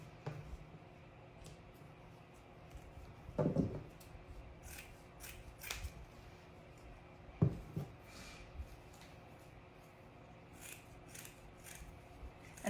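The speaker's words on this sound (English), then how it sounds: "I'm going to fold this into a 4th right here, so I can cut 4 pieces all at once" Scissors cut through material folded into quarters to make four pieces at once, producing a few quiet, crisp snipping crunches at intervals amid soft rustling and handling sounds.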